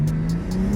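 A BMW M4 G82 with traction control off revs hard through wheelspin, a brief loud engine snarl with a steady tone and rhythmic pulsing, no voices.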